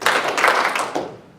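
Short burst of audience clapping at a panel event, dense and close for about a second, then quickly fading away with no talking over it.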